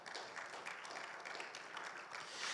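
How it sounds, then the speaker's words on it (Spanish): A church class audience claps at a faint, distant level, a steady patter of applause lasting a few seconds. "¿Cuánto le dan un fuerte aplauso, Señor, por favor?"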